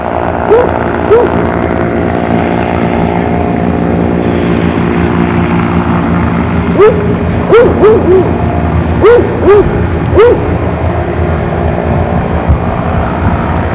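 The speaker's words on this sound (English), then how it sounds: "And here comes the blimp in for a landing." A blimp comes in to land, its propeller engines droning loud and close in a steady throbbing hum, with short bursts of voices outdoors.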